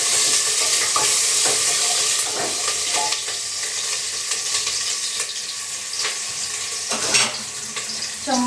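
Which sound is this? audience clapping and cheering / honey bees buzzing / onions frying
onions frying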